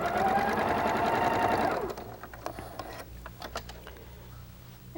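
A domestic sewing machine runs steadily for about two seconds, stitching quilt pieces together, then stops. Softer handling clicks and rustles of fabric follow close by.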